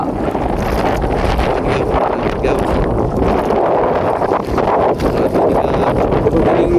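Steady strong wind roars and buffets the microphone at sea on a fishing boat, with a constant low rushing noise throughout.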